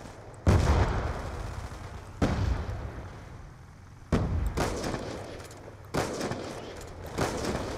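Four loud, sharp gunshots from a video game ring out alone, spaced roughly two seconds apart, each with a ringing tail. A fainter fifth shot follows near the end.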